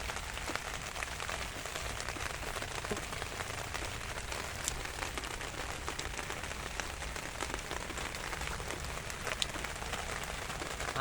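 Rain pattering on a plastic-covered rain shelter, a dense, constant drumming of drops lasting throughout, even and fairly soft with no voices.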